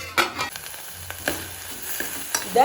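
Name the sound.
stirring orange peel cooking in a pot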